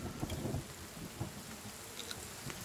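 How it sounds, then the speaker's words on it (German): Rain falls steadily in the survival game The Forest, a continuous dense patter with low rumbling underneath, heard alone without talk. "Oh, es regnet, das ist schön."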